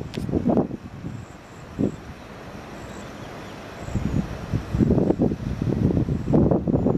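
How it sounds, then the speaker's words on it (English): Outdoor wind at a park in New Jersey buffets and rumbles in uneven gusts, growing stronger toward the end, fairly faint and close to the microphone with no one talking. "Very hard because the wind is blowing it around."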